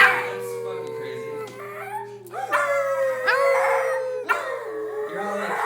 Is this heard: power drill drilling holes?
no